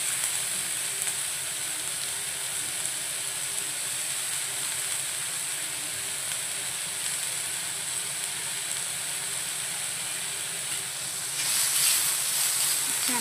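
Onion roasting on a hot tawa for chicken masala gives a steady, even sizzling hiss that runs unbroken at moderate level and rises slightly near the end, with no talk.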